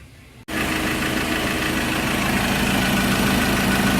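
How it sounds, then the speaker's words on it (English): A Ford diesel engine starts and settles into a steady, loud idle, its low rumble and broadband clatter running continuously close by, with no voices. "here we're going to start the engine and leave it to idle"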